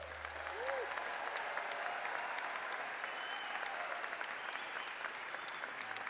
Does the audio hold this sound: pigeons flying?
no